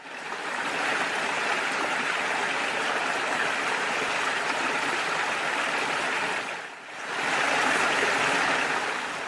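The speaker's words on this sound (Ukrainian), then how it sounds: "Це весняний струмочок." A steady, continuous rush of a flowing spring stream, close and full-bodied, with a brief dip in loudness before resuming.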